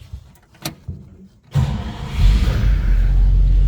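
A 1956 Pontiac Chieftain Catalina with a 317 V8 cranks and fires, a few faint clicks first, then the engine catches abruptly and settles into a loud, steady idle close by.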